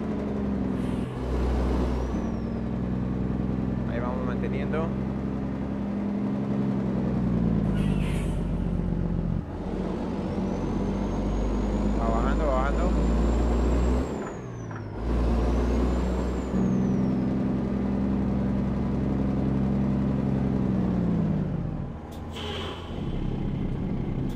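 A heavy truck in American Truck Simulator braking, with hissing air brake bursts over a steady low engine rumble, a long continuous drone with several sharp releases near the end.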